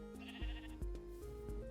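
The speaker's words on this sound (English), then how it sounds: "Oh, we caught a sheep." Sheep in a video game bleat several times in quick succession, a run of close, loud calls with a steady background tone beneath them.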